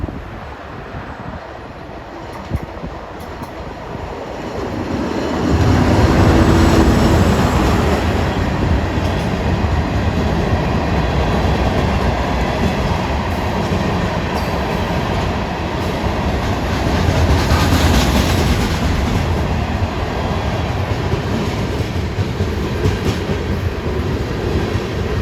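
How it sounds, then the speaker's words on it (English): A New York and Atlantic freight train, a single PR-20 locomotive running westbound from Babylon toward Fresh Pond, rumbles loudly past at close range. The steady roar of rolling cars holds for about twenty seconds without a break. "approaching westbound at 343 is a train you can pretty much rely on. New York and Atlantic train RS-41."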